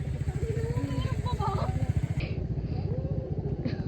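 Motorcycles on a muddy route near Tagaytay, a close, steady pulsing engine drone with the rider's voice chattering faintly over it, engine tone shifting as it moves along.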